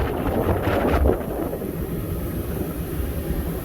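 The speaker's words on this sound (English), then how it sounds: "It is windy out here." Steady, loud wind rumbles and buffets against the microphone on a Lund 26 boat, with a stronger gust near the start before settling into a constant roar.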